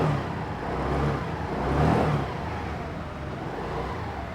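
A Honda Activa scooter engine hums steadily up close, swelling as it revs and then easing back, with no talking over it.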